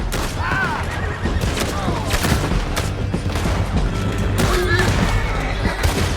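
Horses whinny twice amid a dense, noisy Red Dead Redemption 2 battle of gunfire and booms, with shouting voices mixed into the chaos.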